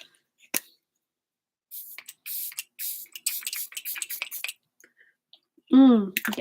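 A Glow Water fine face mist spray bottle gives a run of short, close, airy spritzes in quick succession, with a brief vocal sound near the end.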